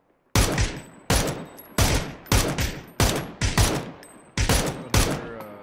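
Gunshots in the video game PUBG, eight loud, close single shots spaced irregularly about half a second to a second apart, each with a short reverberant tail, and no talk.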